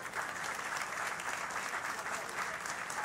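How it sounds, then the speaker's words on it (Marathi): At a Loksatta literary talk featuring author Ambarish Mishra, the crowd breaks into sustained applause, a full, even roar of many hands clapping that holds steady throughout. "होऊन जाऊ दे टाळ्या एकदा"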